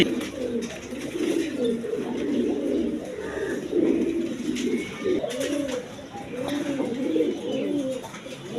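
Army pigeons coo in repeated low, rolling calls, several birds overlapping at close range with soft background noise.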